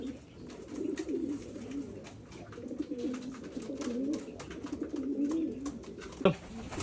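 Pigeons coo in soft, repeated rolling phrases at close range, with faint rustling and a short sharp knock near the end.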